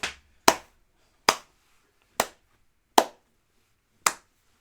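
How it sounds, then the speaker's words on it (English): Six crisp hand claps ring out alone at slow, slightly uneven intervals in a quiet room, each a sharp, close snap with a quick decay. "what's called a slow motion clap, which is like this"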